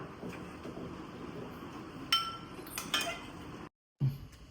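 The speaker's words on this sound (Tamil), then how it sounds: "அவங்களுக்கும் சேர்த்து பிரியாணியை பேக் பண்ணுறேன்" Biryani being packed into containers, with clinks and clatters of a spoon against metal or plastic containers, a few sharper taps standing out over steady kitchen background noise, then a brief dropout and a soft knock.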